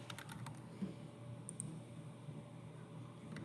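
Keys tapped on a computer keyboard while entering a Roblox redeem code, a quick burst of close clicks at the start, then a few scattered taps over a steady low hum.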